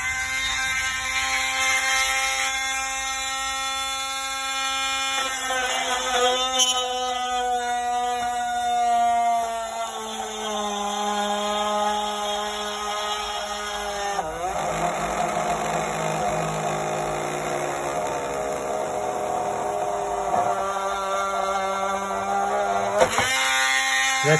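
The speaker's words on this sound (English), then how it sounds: "Let's use the high speed rotary tool to finish the job." A high speed rotary tool cuts through extra hard plastic, a nitro RC body shell for a Traxxas Revo rather than typical Lexan, giving a steady loud whine with shifting pitch as the bit bites, running continuously throughout.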